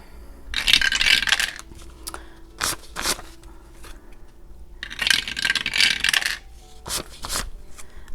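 Dice rolled for a cash savings challenge, heard as several bursts of rattling and clattering against a hard surface, close and fairly loud, separated by short quiet gaps with single clicks.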